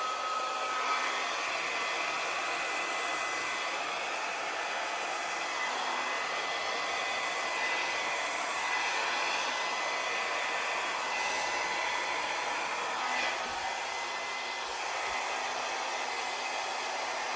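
Hair dryer blowing across wet acrylic pour paint on a canvas, a steady, unbroken whooshing roar held close up for the whole stretch.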